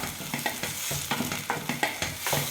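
Onions and tomatoes fry in a pan, sizzling steadily while a spoon stirs them in quick, rhythmic scraping strokes close by.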